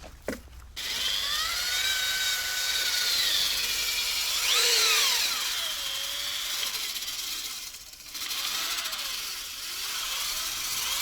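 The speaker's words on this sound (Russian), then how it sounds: "И потом будем сверлить блок." A power drill whining steadily on metal, drilling an MTZ tractor engine block, pitch sliding up and down as pressure changes, with a brief pause near the end.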